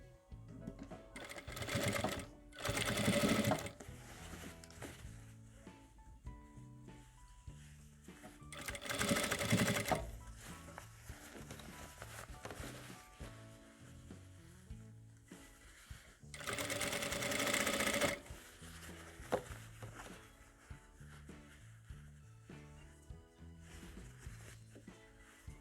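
A sewing machine runs a securing stitch along the seam of a fabric bunny toy, in several loud bursts of rapid whirring separated by quieter handling noises.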